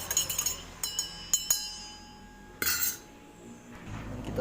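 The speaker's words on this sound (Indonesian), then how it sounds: "Lalu kita mengaduk" A spoon clinks against a glass while iced palm-sugar milk coffee is stirred, a quick flurry of bright chinks at the start, two more taps, then a louder clatter before falling quiet.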